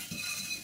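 Flour being stirred into melted butter in a pan to form a paste, a short soft scrape of utensil against cookware, close and quiet with no talk.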